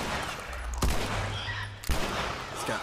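Gunfire in The Last of Us Remastered, two sharp, loud shots roughly a second apart cutting through a dense, noisy game soundscape with no talking.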